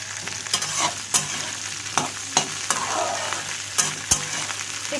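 Okra sizzles as it fries in a pan, with steady crackling broken by repeated clear scrapes and clicks of stirring, close and moderately loud with no talking.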